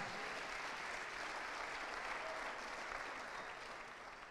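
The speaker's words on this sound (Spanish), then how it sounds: "Come dale el aplauso al Señor" Sustained applause from a congregation at an international church convention, a broad, even wash of many hands clapping that stays fairly distant and soft, fading a little toward the end.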